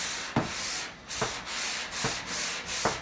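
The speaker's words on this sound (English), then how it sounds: "with the guide coat right here, you're gonna sand" Hand sanding works across guide-coated body filler on a Chevy pickup: steady back-and-forth scratchy strokes, close and even, with a few sharper scrapes where each pass turns.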